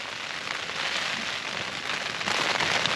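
Heavy rain clatters on a Naturehike Cloud Peak 2 tent at a wet, windy wild camp, making a dense, loud, unbroken hiss of drops with gusts buffeting the fabric throughout.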